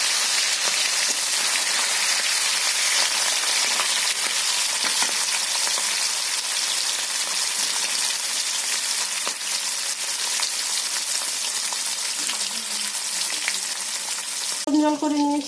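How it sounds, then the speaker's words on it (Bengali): Marinated hilsa fish frying in hot oil, a loud, steady, dense sizzle running the whole time, with a brief clink of utensils near the end. "ম্যারিনেট করে রাখা ইলিশ মাছটা আমি তেলের মধ্যে দিয়ে দিই"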